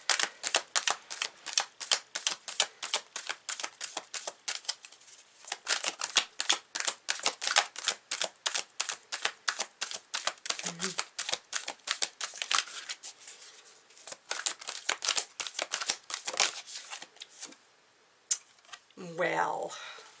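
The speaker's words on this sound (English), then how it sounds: "So I'm just going to shuffle them this way" Tarot cards are shuffled with rapid, crisp riffling bursts repeated over and over, close up, with brief pauses between rounds.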